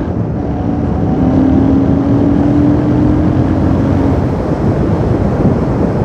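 A Royal Enfield Super Meteor 650 motorcycle is ridden on the road, its steady engine drone and faint tonal whine carried under heavy wind rush, loud and continuous throughout.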